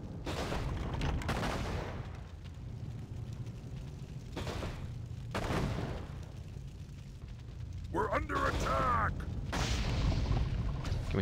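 Catapults firing amid an orc battle in Warcraft III: Reign of Chaos, a dense run of booming impacts and rumbling explosions, loud and continuous with repeated crashes and a brief metallic clang near the end.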